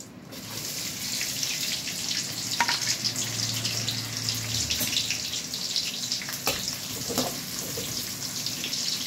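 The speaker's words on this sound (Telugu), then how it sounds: "ఆయిల్ వేడైన తర్వాత ఉల్లిపాయ కట్ చేసిన ఉల్లిపాయ, పచ్చిమిర్చి వేసుకోవాలండి" Chopped onion and green chili frying in hot oil for masala idli, a continuous hissing sizzle at moderate level with occasional faint clicks and a low hum partway through.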